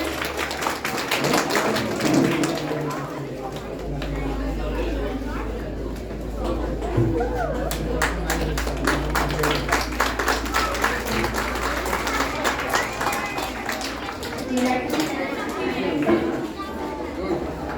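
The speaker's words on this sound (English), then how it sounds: "Please give a round of applause." Audience clapping at a school silver jubilee award ceremony: scattered claps grow into sustained applause with distinct sharp hand claps near the microphone, while people chatter and talk over it throughout.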